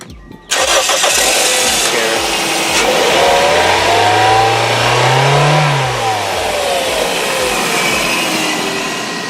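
A car engine cranks and starts, then revs up to a rising roar and eases back down, loud and close, with a steady rumble underneath.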